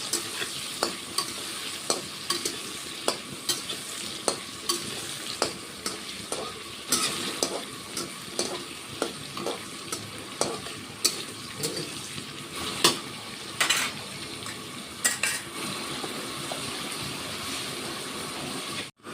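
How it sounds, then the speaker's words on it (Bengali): Eggplant frying in hot oil keeps up a steady, crackling sizzle for about twenty seconds, broken by frequent sharp spatters and occasional stirring clinks, with no talking. "এখন বন্ধুরা বেগুনটাও ভেজে নিচ্ছি"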